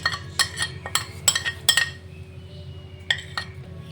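A spoon clinks and scrapes against a bowl in quick bursts of metallic taps as pakora batter with baking soda, salt and kasuri methi is mixed close by, then pauses before a few more clinks.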